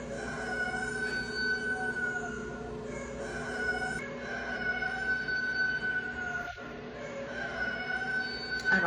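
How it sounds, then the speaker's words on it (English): A rooster crows from some distance, its drawn-out call rising above a steady background of ambient noise, with no talking. "That's the rooster going off"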